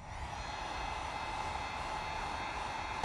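A heat gun reheats the adhesive on a Hobie Mirage Drive pedal pad, giving a steady, close, loud blowing roar that holds level and unbroken from start to finish.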